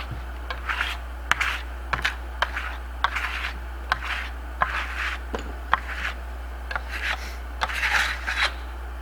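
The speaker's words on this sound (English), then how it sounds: "I'm going to take my trowel, clean trowel, and then I'm going to simply come into it and trowel off any excess." A clean trowel scrapes excess sealer off Venetian plaster in a series of short, crisp rasping strokes, roughly one or two a second, close and distinct over a steady low hum.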